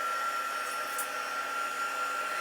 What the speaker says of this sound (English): I'm going to turn on the heat tool, and I'm going to melt this.